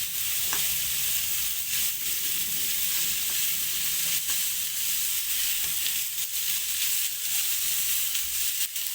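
Capsicum and carrot sizzle steadily in a pan for egg fried rice, a continuous loud frying hiss with occasional scrapes of stirring, no talking.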